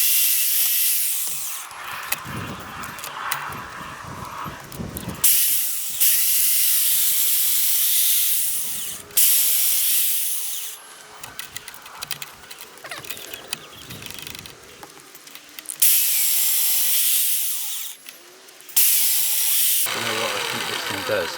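A chain mortiser cuts mortices in oak with a loud hissing, whining roar that starts and stops in repeated bursts of a few seconds each, with quieter workshop handling between runs.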